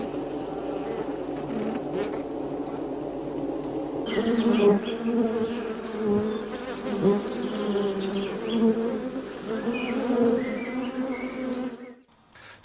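Dense swarm of honeybees humming inside their hive, a thick continuous buzz with individual wingbeats rising and falling close by, ending abruptly.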